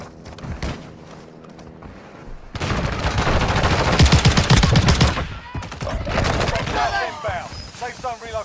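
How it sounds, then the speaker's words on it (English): Gunfire in Warzone Mobile, with a burst of loud, close, rapid shots followed by scattered reports, while a player talks over the action. "I'm getting sniped at it."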